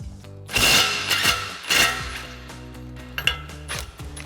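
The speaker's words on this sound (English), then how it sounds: "we're going to remove our lower ball joint nut, and we're going to need our 24mm socket for that" Metal tools clank and ratchet against the lower ball joint nut of a RAM 1500 front lower control arm, with a 24mm socket giving sharp close clinks and a few harder knocks, no talking.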